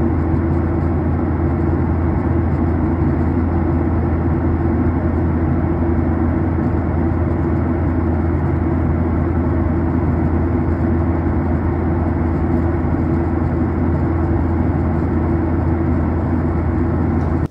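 Passenger airplane cabin on a flight to or from Dubai, a constant loud low roar and hiss of jet engines that holds unchanged throughout.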